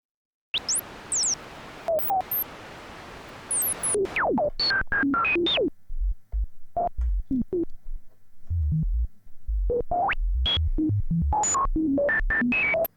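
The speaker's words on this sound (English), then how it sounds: "Finally, adding a little bit of white noise for an added effect" Roland SH-101 analog synthesizer tones sweep and chirp in quick bursts over a hiss of white noise, with low pulsing notes joining later.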